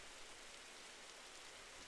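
Steady rain falling in the dinosaur survival game Beasts of Bermuda, an even, dense hiss of drops on the ground, quiet and continuous with no voices.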